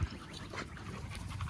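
A dog pants steadily and close up, quick rough breaths going on without a break through a short stretch of low background noise.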